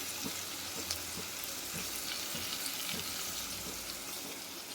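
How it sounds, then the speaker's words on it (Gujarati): Khichdi being tempered sizzles in a pot, a soft, even, continuous hiss with no talking. "જો આપણી ખીચડી વઘારાય કે ખીચડી નાખી દીધી છે"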